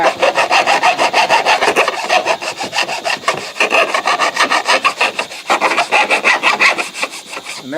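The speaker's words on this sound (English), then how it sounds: "I just grab a flat file like this that's medium to fine and just lay it on the edge" Flat file of medium to fine cut drawn repeatedly along the edge of a wooden straightedge to remove protruding screw points, giving steady rhythmic rasping strokes, close and loud, with no talking.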